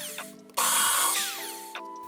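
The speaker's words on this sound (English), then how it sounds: "drill the 2 holes for the screw that will hold the base into the body" Power drill boring screw holes into a bass guitar tuner base, a short whir that jumps to a loud high-pitched grinding whine, then eases down with a brief spike near the end.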